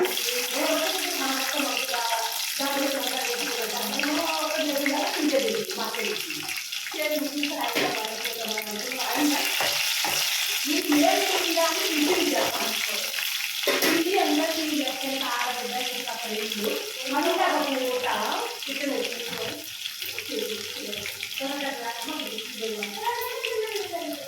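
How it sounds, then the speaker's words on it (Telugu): Dry red chillies crackling in hot oil as a tempering for dal, a continuous close hiss lasting throughout while someone talks over it. "ఎండుమిర్చి తాలింపులో వేసేస్తున్నాను"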